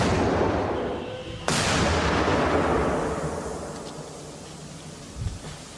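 A powerful explosive blast fired at an armored car booms out after a moment of rumbling, its roar rolling and echoing away slowly, with a faint thump near the end.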